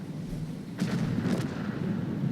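Two booming tank cannon shots from the video game World of Tanks, a T-34-3, fire in quick succession over a steady low rumble, loud and close.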